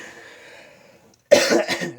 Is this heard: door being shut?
no